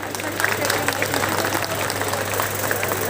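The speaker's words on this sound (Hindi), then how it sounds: "एक बार जोरदार तालियां" A crowd at a community society gathering claps steadily at a moderate distance, with a low electrical hum running underneath. Voices can be heard mixed into the applause.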